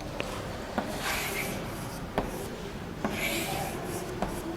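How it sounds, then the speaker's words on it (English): Pen or chalk scratching and rubbing across a board during a biology lesson, in soft repeated strokes punctuated by sharp taps, fairly close and with no talk. "let me write there itself"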